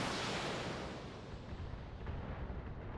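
An LRM-15 missile launch from a Trebuchet mech in BattleTech, a loud, dense roaring rumble that fades slowly, with no talk.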